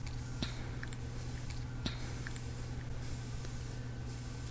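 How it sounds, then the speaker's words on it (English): An airbrush sprays paint onto a fishing crankbait in repeated bursts of soft hiss over a low steady compressor hum, with a few faint clicks. "once you get the paint in the airbrush, you just start off at light coat painting"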